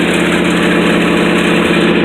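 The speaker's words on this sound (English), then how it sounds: "it's quite loud when it's on fast idle like this" A 1967 Ford Thunderbird V8 sits on fast idle on a cold day, a loud, steady close-up engine drone with a rapid even pulsing throb and no talking.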